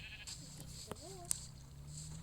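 Sheep in the Minecraft video game give a few short bleats, faint and close together, over low background sounds and quiet talk.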